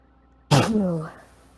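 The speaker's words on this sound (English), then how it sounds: "Yeah, there's your sneeze." A single sudden sneeze bursts in close and loud after a quiet pause, then trails off into a voiced tail, heard over a headset during an online NASCAR truck sim race.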